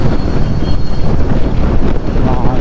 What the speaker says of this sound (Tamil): காற்று சில்லுன்னு அடிக்குது.